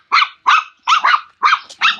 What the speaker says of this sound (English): Nice dogs.